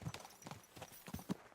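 Horse hooves clip-clop at a steady walking pace in the medieval game Kingdom Come: Deliverance 2, several fairly quiet hoofbeats spaced evenly over a soft background.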